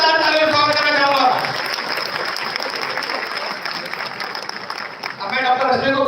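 Loud applause from an audience welcomes a guest at a public forum on One Nation One Election. The dense clapping runs steadily for several seconds, and voices are heard at the start and end.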